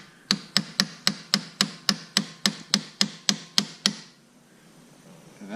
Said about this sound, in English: Find yourself a nice sharp chisel and a whacking stick, and you make yourself an edge, and you just give it a little tap.